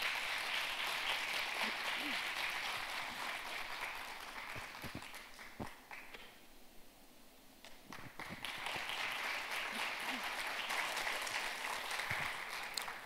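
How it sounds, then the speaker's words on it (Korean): Audience applause at the 2018 Jeonbuk International Finance Conference welcoming a banking and finance strategist to the stage: dense, sustained clapping from a large hall crowd, dipping briefly midway before swelling again, with no talk over it. "여러분 큰 박수로 환영해 주십시오."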